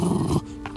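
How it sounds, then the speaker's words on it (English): A pugnacious pet dog gives a short, low, rough growl, close and loud, that cuts off after under half a second. "growled the pooch in a very pugnacious tone"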